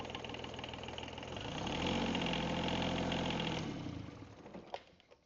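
A boat's diesel engine runs steadily in its engine room, revving up to a louder sustained drone in the middle and then easing off, with a few knocks near the end.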